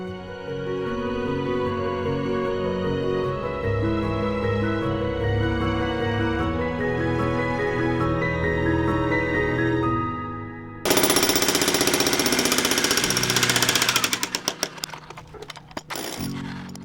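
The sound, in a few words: jackhammer breaking concrete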